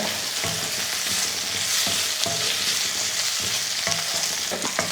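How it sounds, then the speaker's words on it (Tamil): Dried milk shark fish fries in hot oil for a Tamil dry fish gravy, a steady bright sizzle with repeated stirring scrapes and clinks, close and continuous, no talking. "கருவாடை இந்த மாதிரி எண்ணெயிலே சேர்த்துட்டு நல்லா ஃப்ரை பண்ணிக்கோங்க"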